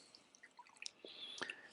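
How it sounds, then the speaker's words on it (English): Warm water wrung and squeegeed out of a wet plaster of Paris bandage, heard as faint, close dripping and soft squishy squelches in a quiet room. "We squeegee out the water."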